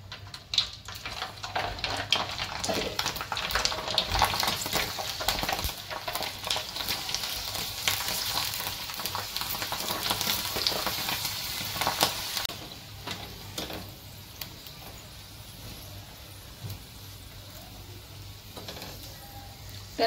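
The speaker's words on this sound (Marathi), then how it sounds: "तर आता असेच ना हे पापड ना मी तळून घेते" Sabudana papad crackle and sizzle in hot oil, a loud, busy frying hiss with sharp pops and occasional stirring scrapes that eases to a quieter sizzle in the second half.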